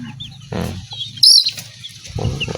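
A mother hen in a backyard flaps her wings in short loud bursts and gives low clucks, close by, with a sharp high squawk in the middle.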